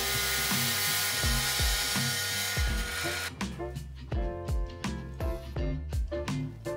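A 3D printed saw blade on a power tool cuts through double ply cardboard, a rapid rhythmic chattering whir with repeated bumps, loud and close, continuing steadily with no voices.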